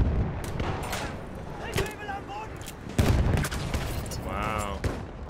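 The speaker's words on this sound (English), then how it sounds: "Who's shooting at me?" Battlefield 1 gunfire crackles in repeated sharp shots and bursts, loud and close, with someone talking between the reports.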